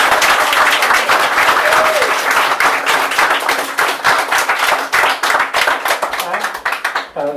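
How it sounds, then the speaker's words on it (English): Sustained, loud applause from an audience at a poetry reading by MA creative writing students, dense clapping running throughout and thinning toward the end. "Give one more round of applause for all of our"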